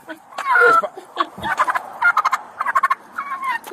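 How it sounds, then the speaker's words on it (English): Loud, close fowl calls in rapid bursts, gobbling chatter that rises and pulses in short repeated notes, from an agitated bird attacking a person. "I'm getting attacked by a chicken right now."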